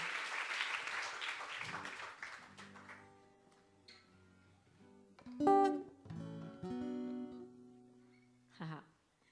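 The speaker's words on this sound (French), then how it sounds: "Oui, vous pouvez applaudir, bien sûr" A live audience at an Axelle Red radio showcase breaks into applause that fades after a few seconds, followed by a quieter stretch with voices and scattered sounds.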